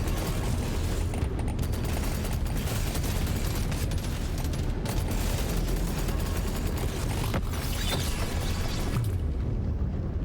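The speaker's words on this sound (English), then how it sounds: "We basically never stop firing at this point." Continuous rapid gunfire and explosions in the video game Deep Rock Galactic Survivors, a dense, loud, unbroken barrage of shots and booms filling the whole stretch without pause.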